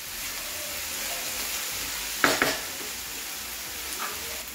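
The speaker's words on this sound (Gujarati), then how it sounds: "लसण आदुनी पेस्ट पण सारी रीते संधराई गई छे" Garlic ginger paste sizzles in a pan for Gujarati papad shaak, a steady frying hiss with a couple of sharp scraping stirs near the middle.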